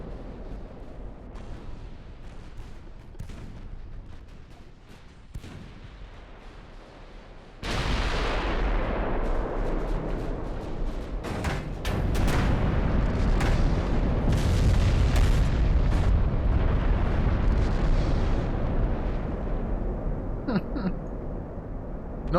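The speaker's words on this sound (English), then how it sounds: "Yes, the Koenig is under fire from at least 3 of our battleships." Battleship artillery in the naval video game Ultimate Admiral: Dreadnoughts, with at least three battleships firing on the Koenig; a low rumbling bed of distant booms grows much louder and denser partway through, with repeated sharp blasts.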